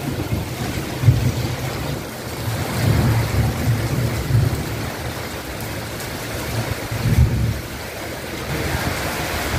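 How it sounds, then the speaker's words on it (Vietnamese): A violent thunderstorm with heavy rain and wind in Ninh Thuan province: a dense, constant roar of rain close by, with deep rumbles of thunder rolling in about three times. "hiện tại ở tỉnh Ninh Thuận của mình là mưa gió sấm chớp cực kỳ rất là ghê luôn á mọi người"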